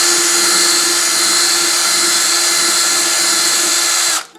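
Power drill wobbling a bit in a hole to widen it in a Fender ukulele body, a loud continuous high-pitched whine held steadily for about four seconds before stopping abruptly.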